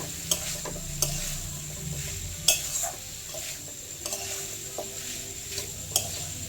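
Mango sandesh mixture with khoya kheer being stirred in a pan over low gas, with regular scraping strokes and a faint sizzle underneath, close and alone.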